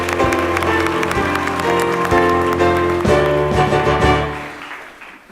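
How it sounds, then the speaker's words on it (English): Theatre audience applauding a guest artiste billed as London's leading male impersonator, heard under loud sustained music with steady clapping that fades away at the end. "a warm round of applause, if you will, for tonight's guest artiste and London's leading male impersonator"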